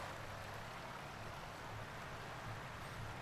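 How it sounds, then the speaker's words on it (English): A babbling brook in Farming Simulator 19, on the Northern Coast map, gives a steady, unbroken wash of running water at an even, moderate level, with no voices. "Good sound effects on the babbling brook"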